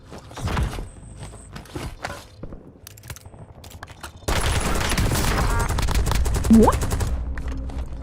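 Gunfire in a Warzone match: scattered single shots and short bursts early, then a dense sustained rattle of automatic fire from about midway on, close and loud, with footsteps and a brief spoken word.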